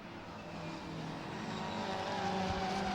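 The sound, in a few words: touring cars racing at Brands Hatch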